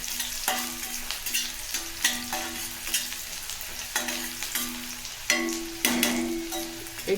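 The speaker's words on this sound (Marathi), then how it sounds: "छान परतून घ्यायचं आहे कांद्याला पण तेलात।" Chopped onion and garlic sizzle in hot oil in a pan while being stirred, a steady frying hiss broken by regular scraping strokes of the spoon, close and moderately loud, with no voices.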